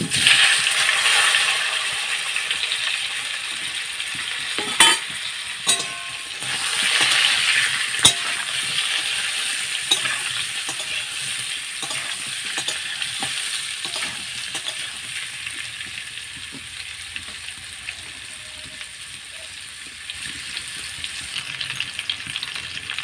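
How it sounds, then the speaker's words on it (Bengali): Boiled potatoes fry in hot oil left over from frying fish for a fish curry, giving a steady, close sizzle and crackle with occasional sharp scrapes and taps of a stirring utensil against the pan. "আমি এবার ওই তেলেতে আলুগুলো, সেদ্ধ আলুগুলো একটু ভেজে নেব"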